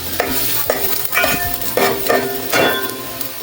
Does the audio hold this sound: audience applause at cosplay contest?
no